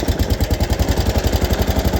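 A Case tractor engine runs steadily just after repairs, a close, continuous mid-pitched chug with a regular pulsing beat and no voices over it.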